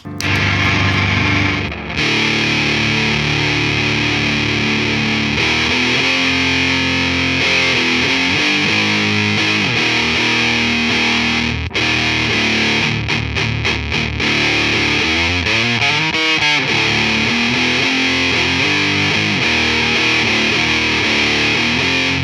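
A heavily distorted electric guitar through a single op amp Big Muff fuzz pedal, loud and saturated, playing sustained notes and chords with harsh buzzing overtones for the whole stretch.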